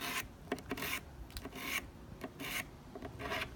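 A steel putty knife (drywall knife) edge being sharpened with a hand file seated in a V-notch gives a series of dry rasping strokes, about five evenly spaced passes, close and moderately loud with no talking.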